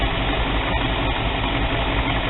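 A Chevrolet 350 V8 in a 1976 Chevy, a two-bolt-main standard-bore block with modern Chevrolet heads and old cast iron exhaust manifolds, idles with a loud, steady, close rumble and no other sounds.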